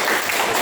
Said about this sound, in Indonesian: tepuk tangan untuk kelompok suka